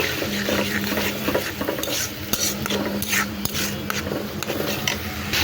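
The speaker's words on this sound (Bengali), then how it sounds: "একটু নাড়াচাড়া করে নেবো, মশলাটা একটু কষিয়ে নেবো" Spices being stirred and sautéed in a pan: steady close-up scraping and sizzling with a low hum underneath, continuing throughout with no talk.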